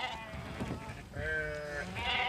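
Sheep out on protected high-altitude grassland bleat in sustained, wavering calls, two clear bleats in the second half over a soft outdoor background, with a faint murmur earlier.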